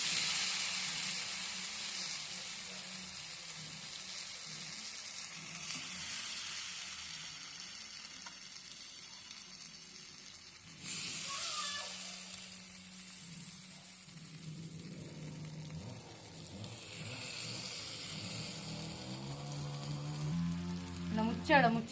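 Batter sizzles and crackles steadily on a hot tava over a medium-to-high flame, with louder bursts and scraping near the end.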